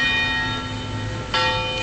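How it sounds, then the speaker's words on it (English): Orthodox church bells ring on a Saturday night in Williamsburg. Their sustained tones hang in the air and swell with a fresh strike near the end. "Would there be a reason that the Orthodox would be ringing bells on Saturday night?"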